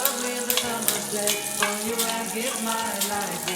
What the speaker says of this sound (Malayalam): നമ്മുടെ അണ്ടിപ്പരിപ്പും കിസ്മിസും നന്നായിട്ട് മൂത്ത് വന്നിട്ടുണ്ട്.